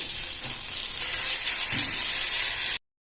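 A loud, steady sizzling hiss of hot tempering with curry leaves poured into mango lentil dal, continuous for a few seconds before cutting off abruptly.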